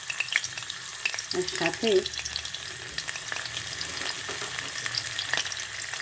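Bhetki fish head fries in hot oil with a continuous close crackle and sizzle and a few bursts of spattering, while a voice says a couple of words partway through.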